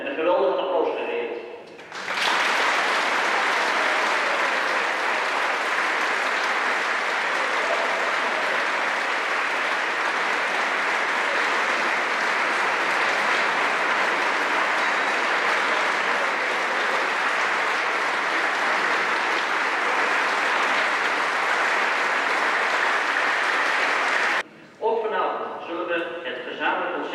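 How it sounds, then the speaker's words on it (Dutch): A concert audience at a joint performance of local music societies breaks into long, loud, sustained applause that holds evenly for about twenty seconds, with someone speaking briefly before and after it. "Voor jullie allen hebben we een bosbloem en een geweldig applaus gereed."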